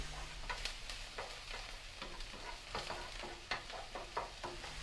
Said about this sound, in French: Vous les mélangez jusqu'à ce qu'ils deviennent plus ou moins translucides.